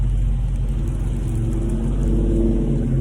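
A widebody Dodge Scat Pack rumbles with a deep, steady engine drone as it begins to pull away, loud and close throughout, with no speech.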